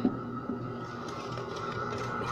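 A bread machine hums steadily while kneading spelt bread dough, with a faint rhythmic bumping and a couple of soft thuds, quiet and close, no voices.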